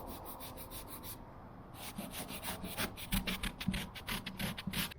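Hand rubbing across a wall freshly coated with WP Alligator pigmented adhesion primer that feels like 120-grit sandpaper, giving a close, continuous dry rasping scrape that swells into louder repeated strokes.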